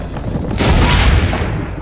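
A single deep, booming cannon shot in Assassin's Creed Brotherhood, loud and close with a broad rumbling tail lasting about a second.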